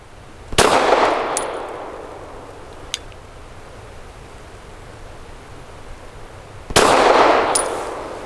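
Two suppressed shots from a Stoeger STR 9S pistol crack loudly several seconds apart on a range, each followed moments later by a faint metallic ping of the round striking a steel target.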